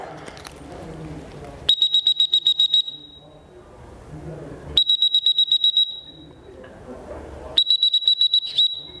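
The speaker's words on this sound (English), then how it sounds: "I blew my whistle." Three bursts of rapid, high-pitched pips from a dog training whistle during retrieve training, each a quick train of about eight short beeps, separated by pauses with faint background sound.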